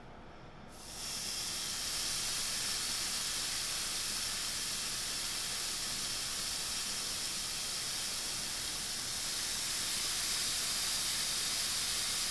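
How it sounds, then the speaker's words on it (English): Steaks sizzle on a Power Smokeless Grill, a steady loud hiss that fills the whole stretch without a break after a quieter first second, with no talk over it. "Listen to that sizzle."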